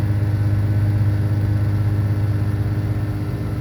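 A Chevy Tracker runs at a fast idle after a cold Canadian start, its engine a steady, close low hum that holds even throughout with no talking.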